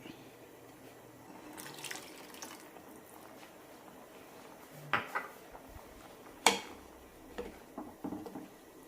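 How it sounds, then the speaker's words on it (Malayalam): Water is poured into a pan of thick ivy gourd curry gravy, giving quiet splashing and trickling with a few light clinks, close by and fairly soft. "കുറച്ചുകൂടി വെള്ളം ഒഴിക്കാം"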